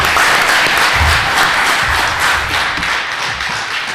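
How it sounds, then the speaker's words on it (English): Audience applause fills a public meeting of Searsport selectmen candidates in 2016, a steady, dense round of clapping that stays loud throughout, with no talk over it. "So I think we owe them a real round of applause."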